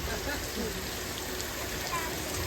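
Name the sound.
artificial rain from overhead sprinklers on Universal Studios movie set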